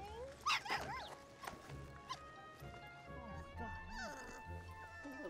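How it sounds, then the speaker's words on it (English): A young puppy, hurt and found outdoors in winter, gives a few brief high whimpers and yips among people talking, near and fairly quiet under the voices. "Mommy, look, a puppy."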